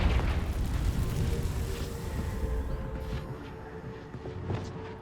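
Confringo fire spell explosion in Hogwarts Legacy: a single heavy boom at the start that rolls into a long, fading low rumble, with faint debris crackles near the end.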